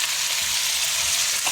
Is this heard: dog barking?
no